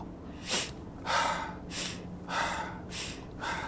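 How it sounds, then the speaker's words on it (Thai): A person takes deep breaths in through the nose during a breathing exercise: about six rhythmic, airy rushes, each swelling and fading, close and fairly soft. "หายใจลึกๆนะเอาเข้าจมูกเลย"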